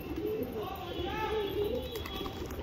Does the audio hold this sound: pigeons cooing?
yes